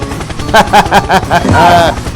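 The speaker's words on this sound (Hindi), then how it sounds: "helicopter helicopter" Cartoon helicopter sound effect in an animated scene, a voice-driven rhythmic chopping pulse of about six loud beats that swells into a sustained whirring tone at the end.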